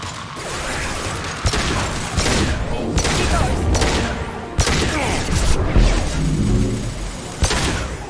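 Gunfire in the video game Mass Effect 2 on an Insanity run: a stream of heavy shots and impacts with sharp blasts and mechanical clatter, loud and busy, with a brief voice underneath.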